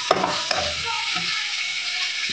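Onions frying in a pan for chicken biryani made with Gobindobhog rice: a steady, fairly loud broadband sizzle that runs throughout, with a few soft clicks of stirring near the start.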